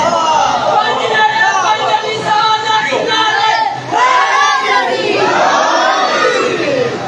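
A large crowd of mourners at a Muharram majlis shouts a religious slogan together, a dense, loud babble of overlapping voices rising in repeated surges.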